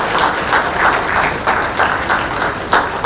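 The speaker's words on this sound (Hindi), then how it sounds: "जोरदार तालियां" Loud, sustained applause from a large crowd greeting the chief minister, with dense clapping that swells in several waves over three seconds and no voices on top.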